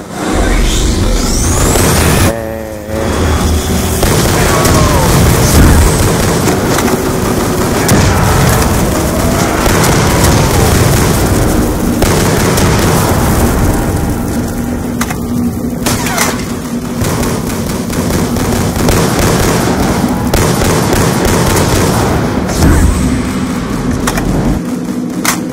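Continuous loud, dense booms and blasts from the War Machine grenade launcher in Call of Duty Zombies, with repeated explosions layered over busy game noise for the whole stretch.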